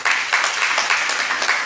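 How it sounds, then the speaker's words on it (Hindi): Women at a large yoga camp applaud themselves, a brief burst of crowd clapping with rapid, dense hand claps that stays loud and steady throughout. "आप अपने लिए तालियां बजाइए एक बार"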